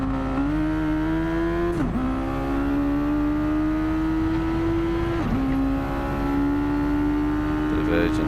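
Mazda Roadster race car in Gran Turismo 7 at Bathurst, its engine held high in the revs with sustained loud drone, rising pitch broken by two quick upshifts, with tyre noise and game sounds beneath.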